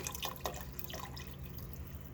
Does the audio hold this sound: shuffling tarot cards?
no